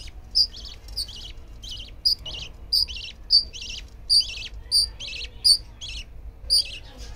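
Budgerigar chicks chirping in a pet bird setup: a steady series of short, high peeping calls repeating roughly every second, close and clear over a low background hum.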